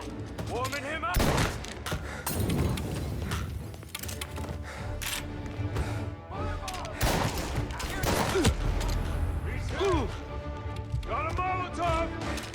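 Gunfire rattles in a shootout in the video game Mafia: Definitive Edition, with repeated sharp bursts and volleys over several seconds, loud and close, mixed with shouting voices and other action noise.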